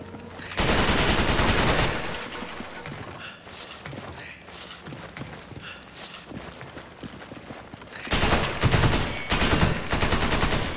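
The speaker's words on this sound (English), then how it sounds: "Oh, it's a real gun." Gunfire from a real gun in the video game Resident Evil 5, sharp bursts of rapid shots near the start and again at the end, with single mechanical clicks and clanks between them.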